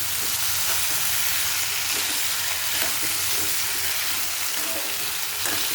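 Potatoes frying over high flame in a pan for potato mezhukkupuratti, a dense continuous sizzle and crackle with faint stirring scrapes, close and steady throughout.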